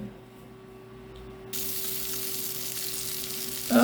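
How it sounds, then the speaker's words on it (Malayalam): Pieces of mackerel dropped into hot oil for a Kerala fish fry, a quiet hum giving way to a sudden steady broadband sizzle that holds to the end, with a louder clatter at the close. "ഇനി ഇതാ മീൻ വറക്കായി അപ്പോൾ മീൻ കഷ്ണങ്ങളൊക്കെ ഉണ്ട് ഇട്ട് കൊടുക്കാം"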